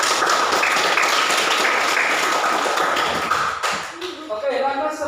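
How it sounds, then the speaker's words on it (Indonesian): A classroom group claps together, a dense, loud burst of overlapping hand claps that holds steady and then thins out toward the end. "Jadi tepuk tangan dulu untuk kita semuanya."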